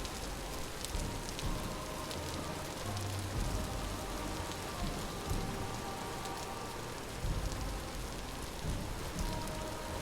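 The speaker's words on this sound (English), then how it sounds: "No rain sound for you." Rain falls steadily in the video game Vintage Story, a dense, even patter of drops striking surfaces with small irregular bumps, continuous and without speech.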